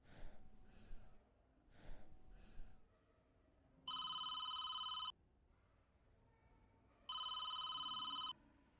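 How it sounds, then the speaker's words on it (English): An electronic telephone ringtone in the visual novel Countdown sounds twice in long steady bursts, clear and alone, after a few soft breaths and snorts. "I was awoken by a phone call."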